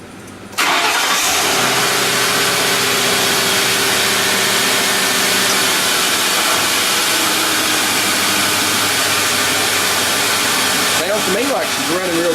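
A car engine cranks and catches, then settles into a steady, smooth idle that runs loud and close for the rest of the clip, with a brief rise near the end.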